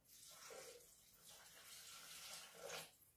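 Water being poured into a Thermomix TM6 jug while cooking spinach with chickpeas, a steady splashing pour with a couple of swells, fairly faint and with no talking.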